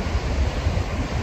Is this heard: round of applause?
no